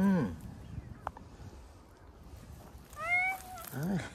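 A friendly stray cat meows loudly several times, with a sharp cry at the start, another in the middle and two drawn-out meows near the end. A person talks softly between the calls.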